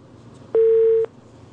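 A telephone line connects a call-in caller to a religious advice broadcast, heard as a single clean tone lasting about half a second over a quiet background.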